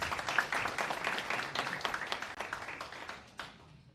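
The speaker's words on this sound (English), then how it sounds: "Can you give the President a proper round of applause?" A faint audience applauds a President in a hall, a brief, uneven patter of clapping that thins out and fades toward the end.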